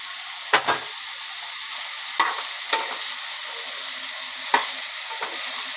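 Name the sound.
tempering seeds, onions and tomatoes sizzling in hot oil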